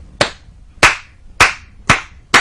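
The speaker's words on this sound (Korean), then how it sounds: "벌써 이 박수도 달라요" A single person claps hands five times, slow and evenly spaced, each clap sharp, loud and close with a short decay, and nothing else sounding between the claps.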